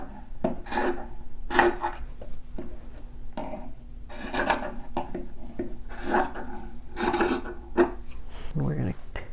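Rotary cutter or scissors trim scrappy quilt fabric pieces on a cutting mat in a series of short rasping strokes, several evenly spaced bursts close by, with no talking.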